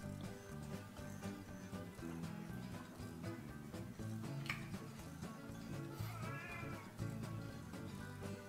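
A cat meows repeatedly indoors, its cries rising over a constant busy background noise, with no talking.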